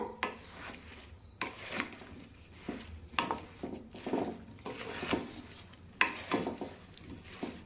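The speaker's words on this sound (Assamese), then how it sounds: "এতিয়া এই পিচি ৰখা মছলাখিনি মই দি দিছোঁ, আৰু ভালদৰে লৰাই দিম এতিয়া।" Ground spice mix being stirred into olive pickle, repeated close scraping and rubbing strokes of a spoon through the thick mixture in an uneven rhythm, with no talk.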